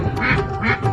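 Ducks quack twice in quick succession, close by and fairly loud, near a rural home surrounded by small trees and greenery.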